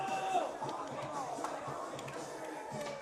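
Crowd noise at a boys' high school soccer game between Warren G. Harding and Boardman: a moderate, continuous murmur of spectators with scattered claps and taps and a brief whistle near the start, under a commentator's voice.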